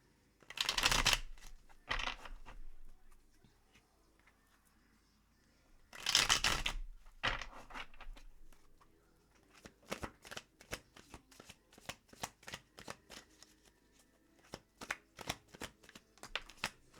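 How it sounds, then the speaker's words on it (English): A deck of tarot cards being shuffled in close, loud riffling bursts, followed by a long run of crisp, rapid card flicks and taps, with no voices. "That was an awful shuffle."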